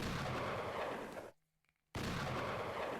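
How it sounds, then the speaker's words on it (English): Loud, dense explosion blast effects from an Ace Attorney game, a sustained roaring burst broken by a brief silent gap before a second blast. "When that explosion effect is in a character's face, it just looks so concerning."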